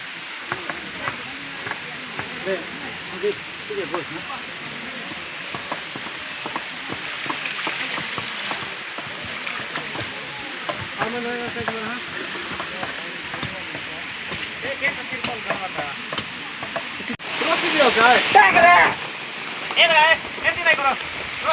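Steady rain patters on a tarpaulin over an outdoor cooking spot in a village, a continuous wash of drops running throughout, with people talking underneath and a louder, denser burst of rain near the end.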